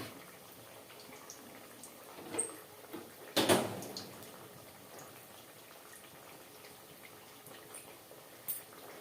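Snacks frying in hot oil until golden yellow give a faint, steady bubbling sizzle, broken by a brief louder clatter near the middle and a few small pops.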